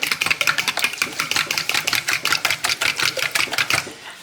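A fork or whisk beats eggs in a bowl for breading fish, making fast rhythmic clicking strokes, close and fairly loud, repeating steadily for about four seconds.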